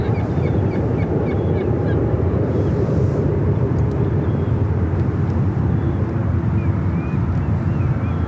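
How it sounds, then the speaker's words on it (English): An Air France Boeing 777-300ER bound for Paris spools its jet engines up for takeoff, a steady low rumble in the distance, with wind noise and chirping birds over it. "Air France flight 283 heading back to Paris in the 777-300ER, now lighting up"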